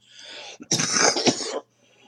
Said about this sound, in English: I was trying so hard not to get that cough going today.